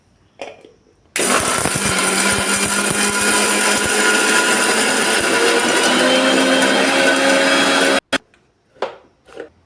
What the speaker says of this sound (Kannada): ಅದನ್ನು ಮಿಕ್ಸಿ ಜಾರ್ನಲ್ಲಿ ಹಾಕೊಳಕತ್ತೇನೆ ರೀ ಇದನ್ನೀಗ ಸ್ವಲ್ಪ ತರಿ ತರಿಯಾಗಿ ರುಬ್ಕೊಂಡ ರೀ